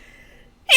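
A single short sneeze bursting out at the very end after near-silence, close and fairly loud, during a tabletop role-playing game session.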